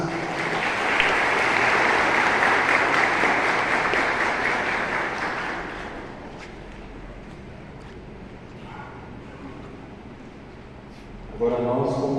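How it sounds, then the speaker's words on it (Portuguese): Congregation applauding in a church during Mass, a loud, sustained round of clapping for about six seconds that fades to quieter room noise and then talking. "Uma salva de palmas."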